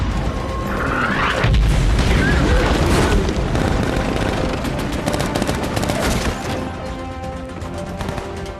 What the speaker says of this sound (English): scenes like this where Chris Hemsworth is charging straight at tanks firing his machine gun